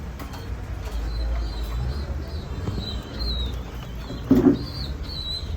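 Red Lahori fancy pigeons coo softly in a loft, low murmuring coos over steady background rumble, with faint high chirps and a brief louder burst near the end.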